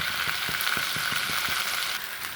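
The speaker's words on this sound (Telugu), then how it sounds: "ఆయిల్ తగిలేటప్పుడు బెండకాయ ముక్కలు వేసినామంటే మనము." Okra pieces fry in hot oil in a pan, a steady loud sizzle with soft regular stirring knocks underneath and no talking.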